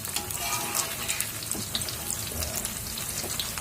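Banana slices for sale pisang fry in an old inherited wok over a raised flame, giving a steady, soft crackling sizzle with occasional stirring scrapes and no talking.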